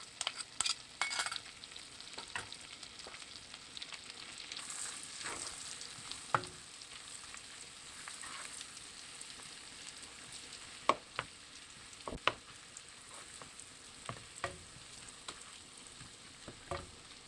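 Ginger garlic paste sautéing gently in a pan for keto palak paneer bhurji, a soft quiet sizzle with occasional sharp clicks of a spoon stirring against the pan, no voices.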